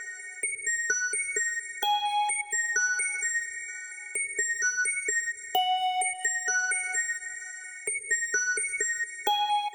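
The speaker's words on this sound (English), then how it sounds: "I added was this key ting preset from Serum, and it's just this simple top line that repeats." A Serum synth keys preset plays a simple repeating top line in a beat, bright plucked tones in short clustered phrases that repeat, with sustained higher notes between clusters, fairly quiet and alone.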